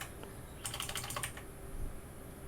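Quick, quiet tapping of keys on a computer keyboard, a short burst of several keystrokes over a soft background hiss.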